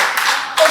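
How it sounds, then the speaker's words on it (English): An audience claps hands at a consultative dialogue and training event, a brief dense burst of applause that swells again near the end, loud and close. "I think we should give a clap to WRAPA"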